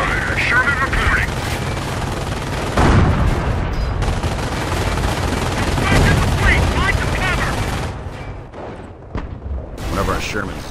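Battle gunfire in Company of Heroes during a Chambois mission, sustained rattling shots and booms under a droning engine, with in-game voices speaking over it.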